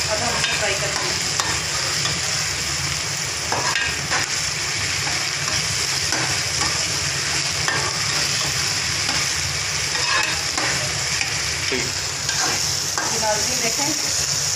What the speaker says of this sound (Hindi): 7 सब्ज़ मिर्च हमने ऐड किए, अब हम इसे फ्राई करते हैं।